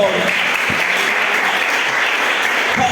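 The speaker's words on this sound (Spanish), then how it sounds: "dele fuerte el aplauso al Señor" A church congregation claps loudly and continuously, a dense, even wall of applause with faint voices mixed in.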